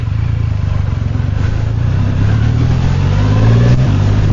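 A motorcycle worth just under £20,000 pulls away from traffic lights, its close engine droning steadily and rising in pitch as it accelerates, loud and continuous with no talking.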